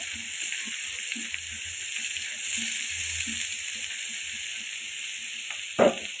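Chopped onions with green chillies fry in a pan, a steady close sizzle with soft stirring scrapes and a sharp clatter near the end.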